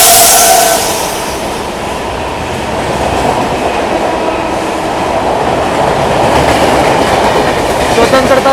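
New Delhi–Jaynagar Swatantrata Senani Express rushing past at high speed, with a loud, steady roar and rapid clickety-clack of wheels on rail joints close by, continuing without a break.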